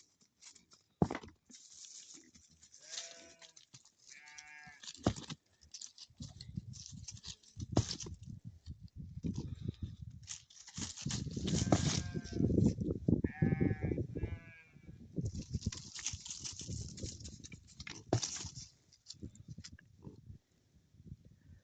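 Sheep and goats on a farm bleating in a string of loud, wavering calls, several animals overlapping near the microphone, with shuffling and patter noises between calls and no talk.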